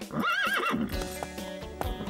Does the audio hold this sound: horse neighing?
yes